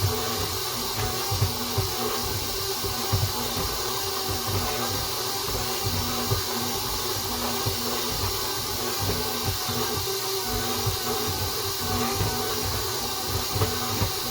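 Stand mixer with a dough hook kneading sourdough pizza dough, a steady loud motor whir and churning hum running without pause, no voices.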